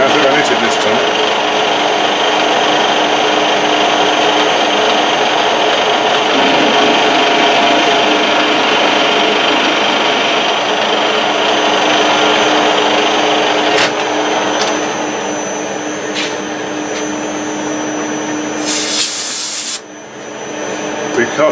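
A lathe cuts threads for an ER32 collet chuck, giving a loud, continuous whirring machining drone that eases slightly near the end before a brief sharp burst, with a person talking over it.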